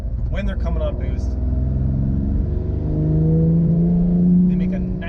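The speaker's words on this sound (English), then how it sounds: "you can hear the turbos doing their thing too" Turbochargers on a 2019 BMW M2 Competition spooling up as the car comes on boost, a rising whir layered over steady engine drone, heard from inside the cabin with someone talking over it.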